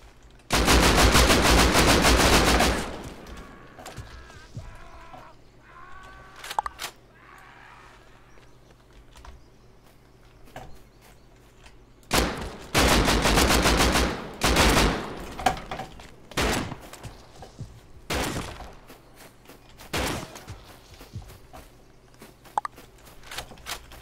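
An AK rifle in the game Rust fires several long, loud automatic bursts separated by quieter gaps and a few single shots, with no talking.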